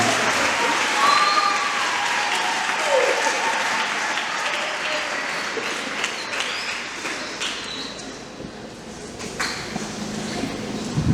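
Applause from a church congregation at a Holy Spirit Mass, dense sustained clapping filling the space, strong at first and gradually thinning, with a few voices mixed in.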